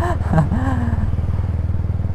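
A motorcycle ridden at night gets a throttle blip, the engine rising briefly in pitch before settling into a steady, loud, close chugging idle rhythm.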